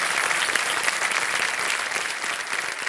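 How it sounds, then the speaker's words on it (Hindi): Studio audience on a televised quiz show bursts into dense, steady applause that stays loud and continuous throughout, with no pauses or talking. "तालियां बज जाए इनके लिए।"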